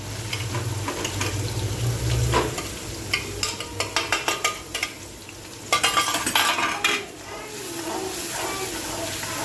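Chillies, ginger garlic paste and onion fry in hot oil with a steady sizzle, broken by repeated scraping and stirring strokes of a spoon against the pan and a brief louder burst near the start.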